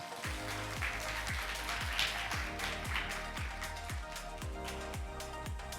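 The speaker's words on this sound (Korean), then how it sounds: "큰 박수로 보내주시기 바랍니다" An audience at a Unity career talk during a job fair applauds steadily, the clapping blended with a rhythmic background music track that pulses throughout.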